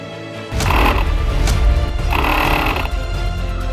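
Close-up whine of a small RC car servo motor turning on command from a Macrozone MC6C mini remote, with two short buzzing surges over a steady mechanical hum and no talk.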